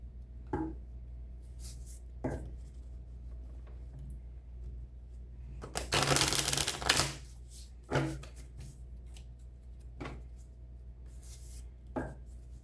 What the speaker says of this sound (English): I think I'm going to do one more row of these Message of Love Oracle